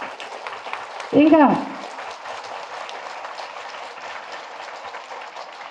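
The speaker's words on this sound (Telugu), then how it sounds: "చప్పట్లు కొట్టండి ఒప్పుకునే వాళ్ళందరూ" An audience at a meditation centre's sixth anniversary gathering in Srikakulam claps steadily under a voice, with a short loud whoop or cheer rising near the start.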